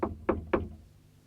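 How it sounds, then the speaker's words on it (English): Three knocks on a flat's door in a 1969 animated children's series, evenly spaced, close and crisp with a short resonant decay, heard alone. "and knocked on Mary's door."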